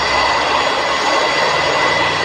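Turboprop airliner engine in the Turboprop Flight Simulator game while landing, a loud continuous droning roar with a steady whine, no voices.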